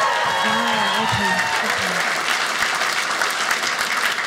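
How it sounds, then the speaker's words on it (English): A comedy show audience of parents breaks into applause, a steady wash of many hands clapping at full strength, with a brief voice heard near the start. "How many parents are in the audience this evening? Round of applause."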